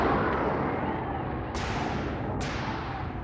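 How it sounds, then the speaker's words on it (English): Torpedo shots in the video game BossConstructor 2, a roaring, dense blast of game noise with two sharp high bursts cutting in, loud and continuous throughout. "Is that the 3rd shot from that torpedo?"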